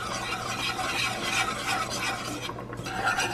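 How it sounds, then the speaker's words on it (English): A whisk stirs flour into melted butter in a pot, a steady close scraping and swishing with a soft sizzle underneath, continuous and fairly loud with a brief dip near the end. "I'm going to whisk this, stirring constantly until the flour is golden"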